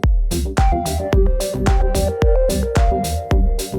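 An EDM lead melody plays on a bright, plucky synth. Punchy notes of mixed lengths step up and down over a low bass pulse, loud and upfront with no voices.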